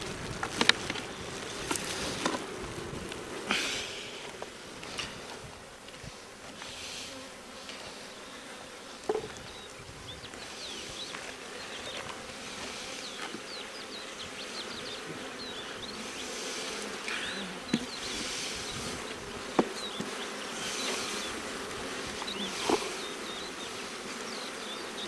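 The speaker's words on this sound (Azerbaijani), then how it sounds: "Görürsünüz mü erkek arıları çoxluğunu?" Honeybees and many drones buzzing in an open hive as the cover is lifted, a steady close droning hum with scattered brief louder passes of individual insects, faint handling knocks, and no talk.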